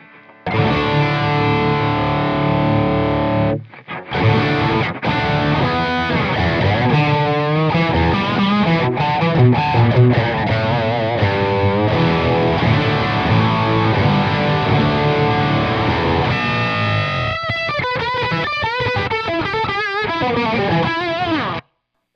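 Electric guitar through a Victory Super Jack amp on its high gain voice 1 channel, a loud, thick distorted tone with sustained chords and busy riffing, one brief dropout, then a wobbling, modulated passage near the end.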